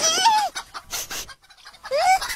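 Cartoon chicken clucks in two rising, squawky bursts at the start and end, loud and close, with scuffling, hurried sounds between them during a chase to catch the escaping hen.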